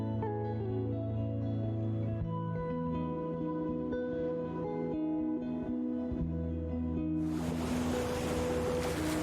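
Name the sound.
Niagara Falls waterfall, thundering water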